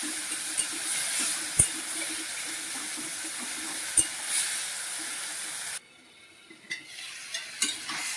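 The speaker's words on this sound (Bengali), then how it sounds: "পেঁয়াজ ভাজা হয়ে গেছে, টমেটো ভাজা হয়ে গেছে। এবার আলুগুলো দিয়ে দিচ্ছি, আলুগুলো এর সঙ্গে ভেজে নেবো।" Steady sizzling of onion and tomato frying in a pan with occasional stirring clinks, close and moderately loud, dropping quieter partway through.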